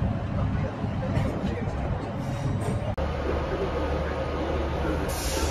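A train pulls into Carlisle station, a continuous low rumble of the carriage with rail noise and a muffled hubbub of passengers around, steady throughout.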